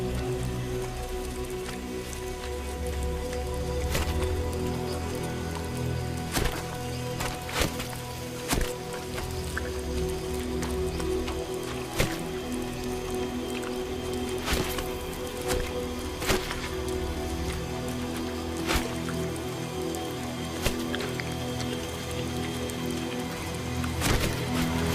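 Heavy rain falls on a forest floor, a dense steady patter of drops with sharper close splats standing out over the continuous wash, no voices present.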